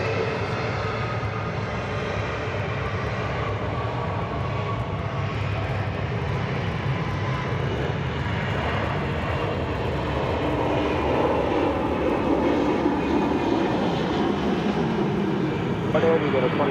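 Delta airliner at Atlanta Hartsfield-Jackson International Airport at night, a steady broad engine roar holding throughout at moderate distance, with people talking over it.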